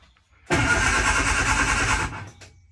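After a moment of quiet, a Mini Cooper S engine in an Austin-Healey Sprite cranks loudly for about a second and a half, then cuts off abruptly.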